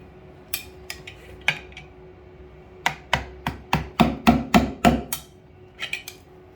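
Hammer tapping to loosen old plumbing putty around a fitting, a run of sharp metallic knocks, a few scattered then a quick burst of about a dozen close, crisp hits with no voices.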